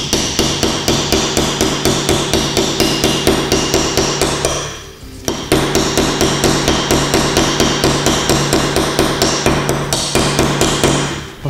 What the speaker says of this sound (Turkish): şu çivimizi alıyoruz, koyuyoruz çekicimizle.